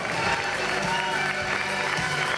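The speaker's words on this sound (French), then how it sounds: "Un triomphe d'applaudissements, mesdames, mesdemoiselles, messieurs, pour Jean-Michel Faretra" A theater audience in Paris applauds performer Jean-Michel Faretra at the close of his show, a continuous dense roar of clapping with crowd noise throughout.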